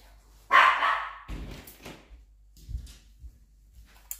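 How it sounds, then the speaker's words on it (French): A puppy barks once, sharp and close, followed by a few fainter yips and small bumps, as if waiting impatiently at a door being opened. "Petit bébé chien qui ne sait pas attendre."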